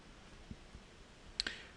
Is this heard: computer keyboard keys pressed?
yes